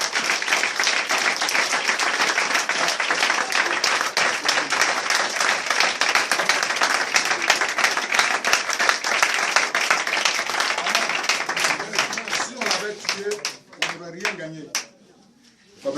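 A church congregation applauding during a deliverance service, sustained dense clapping from many hands that thins to a few scattered claps and fades near the end, with voices and cheers mixed in.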